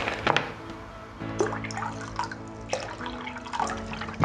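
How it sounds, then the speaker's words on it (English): Apple juice and sparkling water are poured into a container for homemade ice lollies, a close trickling and splashing pour with faint drips and clinks. "Some apple juice. And some sparkling water, just to make it not so sweet."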